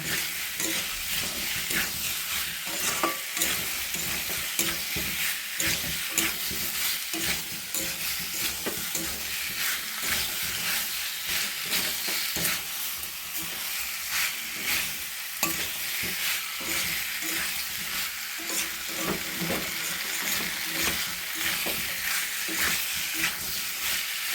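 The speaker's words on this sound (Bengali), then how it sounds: "আলুটা দিয়ে আমি ভালো করে নেড়ে নেব এর সাথে ভালো করে মিশে যাবে আলুর সাথে মশলা সুন্দর করে মিশিয়ে নেব" Potatoes tossed with spices in a hot frying pan, a steady sizzling hiss running throughout with repeated scraping stirs of a spatula, close and continuous with no talking.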